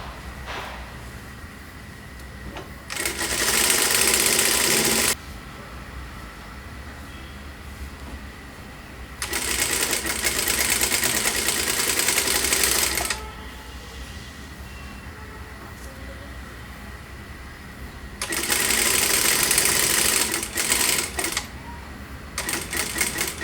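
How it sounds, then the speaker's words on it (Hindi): Sewing machine stitching over the belt of a four-dart blouse runs in three loud, rapid bursts of mechanical clatter, each a few seconds long, separated by quieter pauses. "इस बेल्ट के ऊपर ओवरलैप करते हुए हमें स्टिच लगानी है।"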